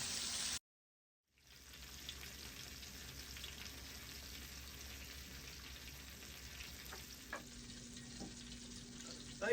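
Squirrel pieces and crappie fry in oil on a disc blade over a wood-fired rocket stove, a steady low sizzle with small pops and crackles running on after a brief dropout near the start.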